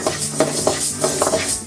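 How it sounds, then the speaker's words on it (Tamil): White urad dal dry-roasts in a pan for a drumstick leaves idli podi, a brief run of close, rhythmic rattling scrapes as the lentils are stirred. "அதே மாதிரி வெள்ளை உளுந்து வறுத்துக்கலாம்."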